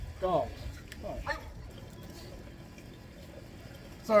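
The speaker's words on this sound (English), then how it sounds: "the dogs decided they had to bark at the mailman" Dogs barking at a mailman, a few sharp barks early on at moderate distance, then fading into quiet room tone with faint background noise.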